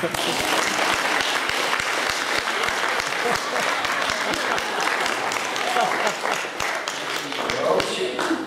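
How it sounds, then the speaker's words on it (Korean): A church congregation claps together at a 35th anniversary service, with loud sustained applause filling the room for several seconds. "동의하시면 박수 한번."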